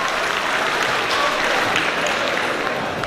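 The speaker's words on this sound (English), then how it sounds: "let's get another round of applause for our community networkers and everyone who participated" Audience at a community meeting clapping in sustained, dense applause that fills the room steadily from start to finish without letting up.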